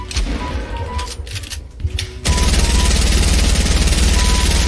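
Video game gunfire starts as scattered shots over a quieter background, then breaks into a loud, continuous rapid burst of automatic fire that holds to the end.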